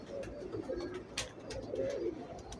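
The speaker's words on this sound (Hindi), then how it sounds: "एने वाल्टन वाले कबूतर" Fancy breeder pigeons coo repeatedly in a loft, the low throaty calls close and continuous, with scattered sharper clicks and wing rustles and no speech.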